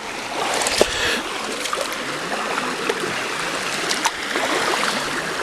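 Waterfall and stream at a swimming hole in upstate New York, a steady broadband rush of flowing water with small splashes and trickles, fairly close and continuous, with no talking.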